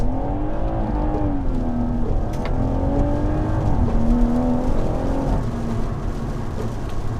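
BMW M140i with B58 engine launching hard from a standstill in pouring rain in sport plus mode, engine note rising and dipping as wheels spin, a loud continuous in-car drone with rising harmonics.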